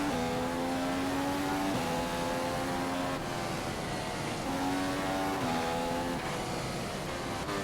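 A race car engine in a racing video game at the Malaysia circuit drones loudly and continuously, its pitch rising through the gears with several brief dips at upshifts, and no talking.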